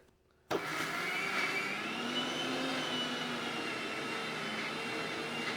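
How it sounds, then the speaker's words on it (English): A Bajaj mixer grinder switches on abruptly and keeps running with a steady, loud, close whine and whir that holds unchanged for about five seconds, with no voices. "that's not a great advertisement for Bajaj mixer grinders, given that you have to manually shake it"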